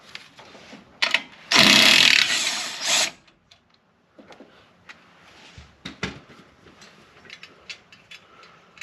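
An impact gun on a Pontiac GTO rattles off a single bolt in one loud, close burst of about a second and a half, then a short tail-off, followed by scattered clinks and handling noises of washers and parts.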